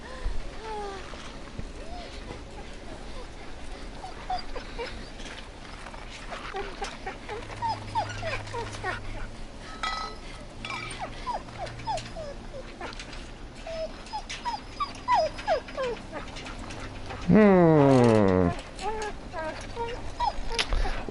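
Wild dogs in The Walking Dead whimper and yip in high, wavering cries, with a sudden louder burst of snarling barks near the end, mixed with faint ambient background noise.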